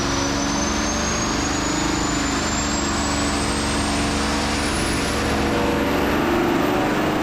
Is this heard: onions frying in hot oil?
no